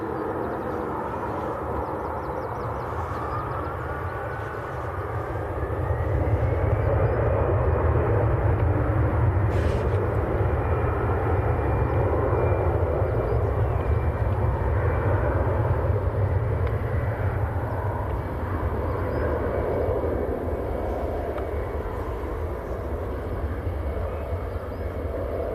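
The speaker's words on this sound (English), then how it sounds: "EasyJet lining up on the other side. He's going out to the Isle of Man." An EasyJet airliner takes off from Manchester Airport bound for the Isle of Man, its engine roar building into a loud, sustained rumble with a rising whine that holds steady.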